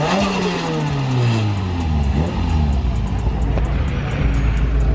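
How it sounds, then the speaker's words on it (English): Car engines at a crowded car meet, with a loud, close rising rev that drops away around the midpoint before steady idling rumble continues under the crowd noise; a blow-off valve hiss is not clearly distinct. "Nothing sounds better than a block top blow off valve"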